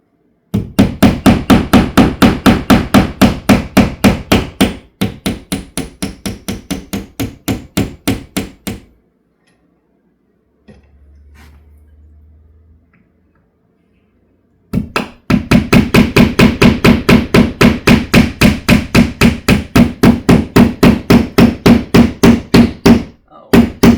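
Hammer driving big nails into a wall, steady rapid strikes in long runs of sharp, loud close blows, a pause with a faint low hum, then another fast burst of hammering.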